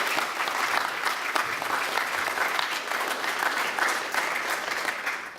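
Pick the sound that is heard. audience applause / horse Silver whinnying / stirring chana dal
audience applause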